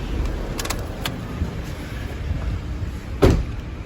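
A few faint mechanical clicks, then a louder solid thunk of a Honda Civic ES's aftermarket remote central locking actuating, over a steady low background hum.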